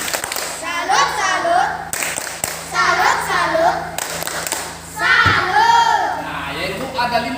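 A classroom of fourth-grade children clap together in rhythmic patterned bursts, led by the teacher's chant-like voice, with children's voices joining in between the claps.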